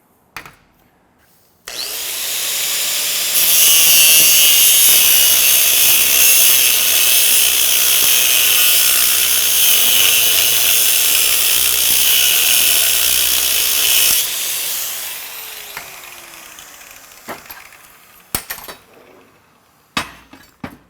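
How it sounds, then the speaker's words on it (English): A cutoff wheel grinds into a steel Halligan bar, a loud sustained high-pitched screeching cut that runs steadily for about eleven seconds after a brief spin-up, then winds down into scattered clanks and handling noises. "I'm going to work this right here initially with a cutoff wheel"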